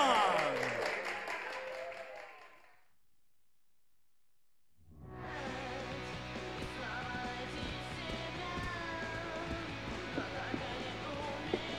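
Crowd applause fills a club in Grand Theft Auto IV, a broad continuous patter of clapping that follows a short silence after a burst of earlier sound, with scattered cheers in the mix.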